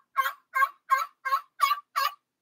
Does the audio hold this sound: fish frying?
no